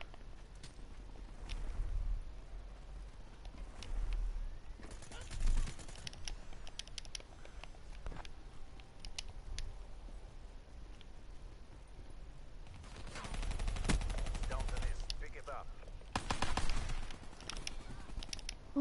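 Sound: Kuda submachine gun firing, from video game Black Ops 3

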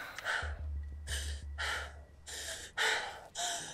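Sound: heavy breathing exercise

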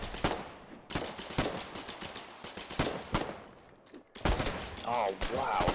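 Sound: gunfire in the video game Foxhole

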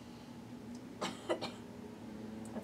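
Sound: cough during yoga stretch

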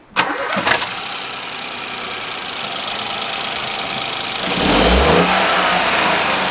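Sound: car engine starting with induction kit

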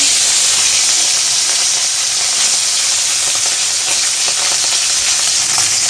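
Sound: frying small morla fish in mustard oil

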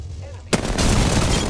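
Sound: gunfire in Call of Duty Warzone video game

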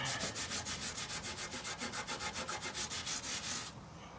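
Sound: scuffing metal with Scotch-Brite pad

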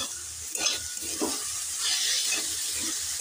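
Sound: stirring cauliflower frying in a pan

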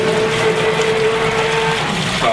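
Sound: Liberty Pump Omnivore grinder pump grinding a mop

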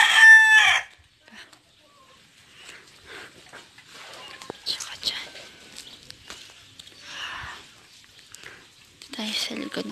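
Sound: chickens and roosters crowing

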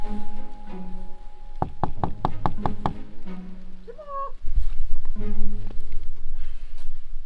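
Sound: knocking on a door

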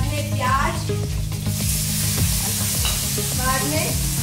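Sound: onions added to a sizzling pan of spices

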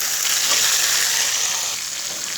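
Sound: bottle gourd pieces frying in pan for chutney

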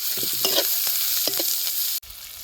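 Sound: stirring poha with curry leaves and coriander in pan

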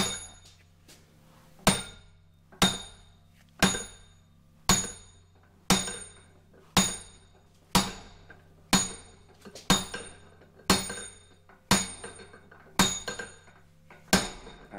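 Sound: hammering a stuck quill out of a 1960s milling machine

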